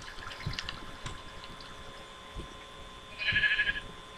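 A Minecraft sheep gives a short bleat late in the clip, moderately loud over quiet game ambience.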